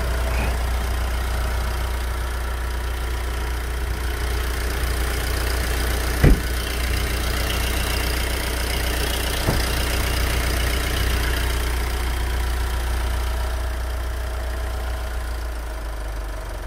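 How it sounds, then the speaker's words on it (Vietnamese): A 2017 Mitsubishi Triton with a manual gearbox and four-wheel drive idles steadily, a smooth low engine hum held close and constant, with two faint sharp clicks partway through. "Đây là toàn bộ tiếng động cơ đang hoạt động đây,"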